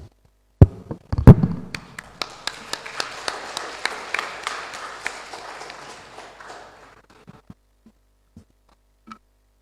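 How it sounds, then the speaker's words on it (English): At the final round of a public speaking contest, an audience applauds a contestant. A few sharp claps come first, then a dense burst of clapping that thins to scattered single claps. "welcome our next contestant, Sun Ho Liang, with a big round of applause."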